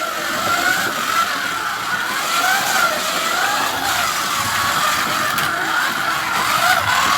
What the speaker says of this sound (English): I must say the new cars to Scalextic sound really smooth